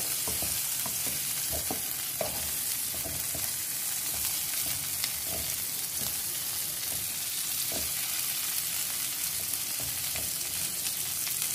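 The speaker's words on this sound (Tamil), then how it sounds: "இந்த ஸ்டஃப் பண்ண கத்திரிக்காய் எல்லாத்தையும் நம்ம எண்ணெயில் வதக்கி எடுத்துக்கலாம்" Stuffed brinjals frying in oil in a pan, a dense continuous sizzle with scattered crackles and stirring scrapes, close up and steady throughout with no speech.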